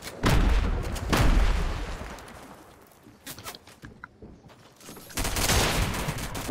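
Gunfire in Fortnite Chapter 3 Season 1: loud bursts of rapid shots crack in clusters at the start, trail off into scattered quieter pops, then return as a heavy volley near the end.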